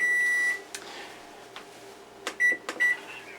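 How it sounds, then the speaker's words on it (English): An electronic timer, sounding like a microwave, goes off in a kitchen while sourdough bakes in a Dutch oven: a long steady beep, then two short beeps, with cupboard clunks and handling noises between. "We'll be back to you as soon as timer goes off."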